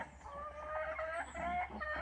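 Chickens cluck close by in a backyard, short rising and falling calls overlapping steadily for about two seconds over a low background hum, with no talk.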